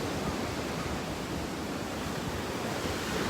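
Ocean surf at Juno Beach by the pier, a continuous broadband roar of breaking waves with some wind, steady and fairly loud with no voices.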